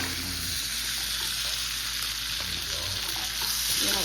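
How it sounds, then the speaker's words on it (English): Steak and salmon sizzle in a hot pan with a loud, continuous crackling fry, close and steady, occasional stirring or tong movements breaking through. "That's the sizzle you want to hear when you're cooking."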